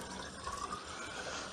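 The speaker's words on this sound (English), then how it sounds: "I am filling this up with cold water from the tap" Cold tap water running steadily into a solar kettle, a continuous close hiss of filling with no voices over it.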